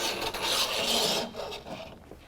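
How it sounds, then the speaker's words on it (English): A metal bolt head slides along the rail of a BakFlip CS rack on a tonneau cover, a close, steady scraping rasp that fades out toward the end. "You slide the bolt head through."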